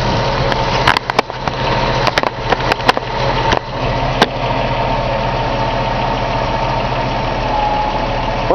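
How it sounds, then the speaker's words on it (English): A 1975 Datsun 280Z engine idles steadily but slightly unevenly during a vacuum check, a continuous mid-pitched hum with a few sharp clicks near the start, close and loud with no talk. "the engine seems a little bit less stable in idle"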